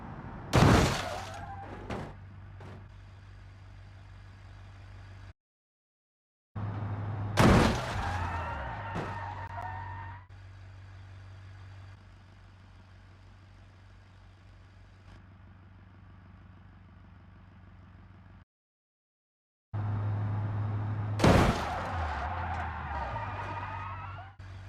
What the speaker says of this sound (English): 2 side collisions and also a head-on collision, all of them happening at 100 kilometers an hour